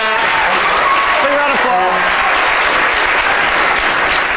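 Loud, close applause for a one-man band fills the whole stretch, with a voice and some tonal sounds briefly rising over the clapping partway through.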